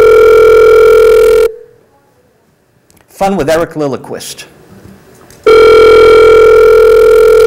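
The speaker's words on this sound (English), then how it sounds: "Oh, answer the phone." A telephone rings in a radio studio: two long, loud electronic ring tones with someone speaking briefly in the quiet gap between them.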